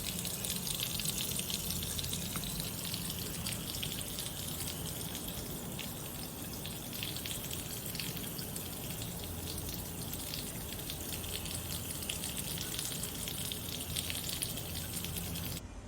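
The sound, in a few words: kitchen sink faucet sprayer running on full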